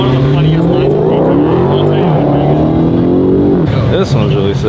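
A Toyota MR2 sports car driving past at Ocean Beach in San Francisco, its loud engine note rising and shifting as it nears and passes, with someone talking over it.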